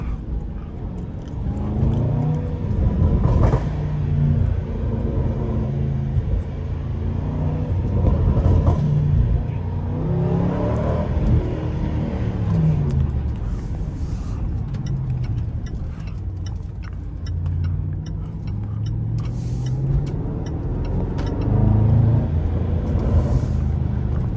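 McLaren 570S sports car cruising through downtown streets, a steady low engine rumble from inside the cabin with a few swells in revs and faint ticking over the drone.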